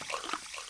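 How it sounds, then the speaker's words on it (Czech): Animals dunked into a tub of water in a children's cartoon make a short, close splash of sloshing water lasting well under a second. "Namočíme je do vody."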